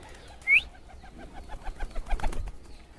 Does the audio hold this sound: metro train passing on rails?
no